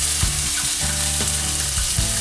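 Onion fries in hot oil in a pan for Nepali-style chicken curry, giving a loud, close, continuous sizzle with bubbling crackle and occasional low thumps.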